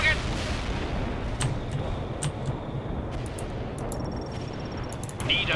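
Units fire at a target in the World in Conflict strategy game, Leopard 2 tanks among them: a steady rumble of battle with sharp gunshot and artillery cracks scattered through it, some distant, others closer, with a voice speaking over it.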